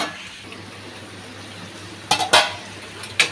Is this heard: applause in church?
no